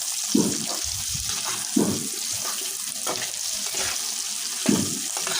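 Papaya pieces go into a pan of frying tilapia fish, bringing a steady loud sizzle with a few heavier splattering thumps as pieces drop in; no voices.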